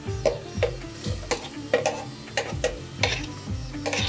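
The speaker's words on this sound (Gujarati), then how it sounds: "અહીંયા હું સૌથી પહેલાં નાખું છું ડુંગળી" Onions cook in a pan for street-style pav bhaji, a low sizzle under repeated rhythmic knocks and scrapes of a spoon stirring against the metal, close up and without talk.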